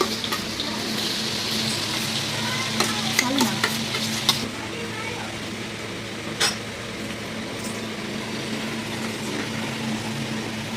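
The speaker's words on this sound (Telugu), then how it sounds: "ఇంకా వెల్లిపాయ వేసేసి పోపేసేస్తున్నాం" Garlic tempering fried in hot oil for a mango pickle, with a steady close sizzle, a burst of spoon clinks and stirring scrapes early on, and quieter frying hiss afterward.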